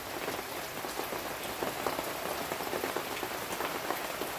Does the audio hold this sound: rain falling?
yes